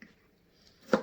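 A single sharp knife chop through a Roma tomato near the end, close and crisp, after a near-quiet stretch.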